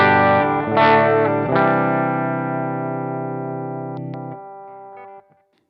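Electric guitar played through a Blackstar Amped 1 with plate reverb and no pedals engaged, a few strummed chords ringing out in a long sustained decay, close and loud, before fading to silence.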